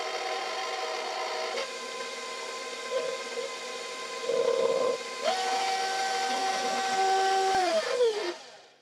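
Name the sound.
electric mixer mixing sweet potato casserole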